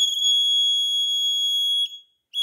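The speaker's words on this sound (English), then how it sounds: "so in this way, if the fire occurs in our house, it gives the buzzer sound." A homemade fire alarm circuit built around a BC547 transistor and a photodiode sounds its buzzer as a loud, steady high-pitched electronic tone that cuts off near the end and then starts again.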